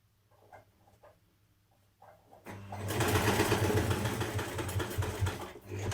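A sewing machine back-stitching and seaming a dress vent on a NewLook 6679 dress starts after a few quiet taps and soft handling sounds, then runs as a steady close whirring hum for several seconds.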